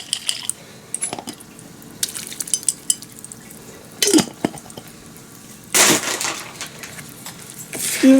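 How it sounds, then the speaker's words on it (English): Water is splashed and swirled inside a jar that held a cheesy sauce, to rinse it out for a chicken bake. Short bursts of sloshing and clinking arrive a few seconds apart between quieter kitchen handling, close by. "Grab a little bit of water. Rinse out your jar."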